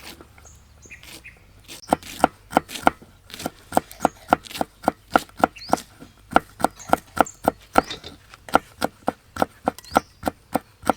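A knife chops lemongrass on a board in quick, regular strokes, about two or three sharp knocks per second, close and clear.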